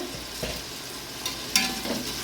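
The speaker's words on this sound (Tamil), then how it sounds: "கல்லுப்பு சேர்த்து வெங்காயத்தை வதக்கணும்னா கொஞ்சம் சீக்கிரமாக வெங்காயம் வதங்கிடும்" Onions sautéing with rock salt in a pan for biryani, giving a faint, steady sizzle with a few soft stirring scrapes and no voices.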